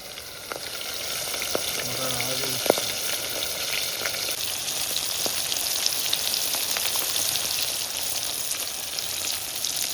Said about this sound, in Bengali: মাছগুলো পুরো কড়া করে লাল লাল করে ভেজে নিচ্ছে।